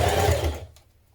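A sewing machine bastes hang loops onto a backpack in a brief burst of close, rapid mechanical stitching that stops abruptly after about half a second, leaving a low hum.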